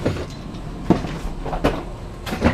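A delivery truck's bulk cargo door is shut, giving a few separate metallic clunks and rattles spaced under a second apart, near and fairly loud over low rumbling background.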